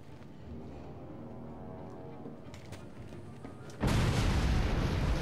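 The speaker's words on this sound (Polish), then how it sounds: "Eksplozje wszędzie." Explosions boom in Batman: Arkham City, a rumbling stretch of distant blasts and pops that gives way to a sudden, much louder close detonation roaring through the final second.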